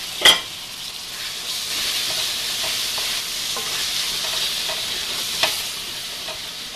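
Ginger garlic paste frying with mint leaves for chicken biryani, a steady close sizzle and hiss running throughout, with a sharp clank at the start and a softer knock near the end as it is stirred.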